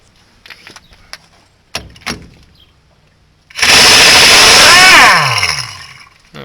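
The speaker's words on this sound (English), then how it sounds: "gonna take out all these bolts." A power tool removes bolts from a truck differential: a few sharp knocks and taps, then a loud sustained whirring burst of about a second and a half that winds down.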